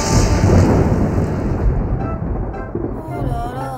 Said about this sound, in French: Je vais me laisser noyer sous cet orage